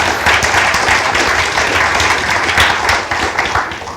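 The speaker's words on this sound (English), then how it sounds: "Also give them a big round of applause." A forum audience applauds its panelists at the close of a session, dense sustained clapping filling the room from start to finish, loud and close, no talk over it.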